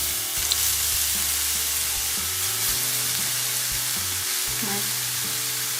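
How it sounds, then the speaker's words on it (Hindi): Carrots roasting in a pan for a shahi gajrela dessert give off a steady, close sizzle and frying hiss, with occasional stirring scrapes and no talking. "गाजरें डाल के इनको अच्छे से रोस्ट कर लूँगी।"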